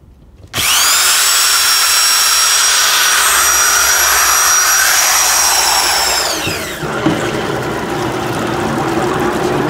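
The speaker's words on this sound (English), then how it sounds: "So Ray, the drill's continuing to run" An electric drill plugged into a GFCI outlet starts abruptly and runs at a loud, steady high-pitched whine, then its pitch shifts and it keeps running with a rougher tone.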